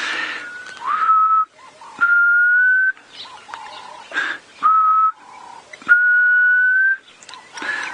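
A person whistles an imitation of a black cuckoo's call outdoors, repeating sustained, rising whistled notes about half a second to a second long in a steady sequence, close and clear with brief rustling between phrases.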